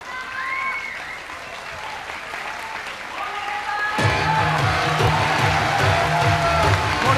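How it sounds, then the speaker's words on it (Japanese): A crowd at a women's pro wrestling event applauds after the Japan Grand Prix '91 final, where the winner receives her trophy, with steady clapping under an excited commentator's voice that swells louder halfway through. "これはもう本当に拍手して"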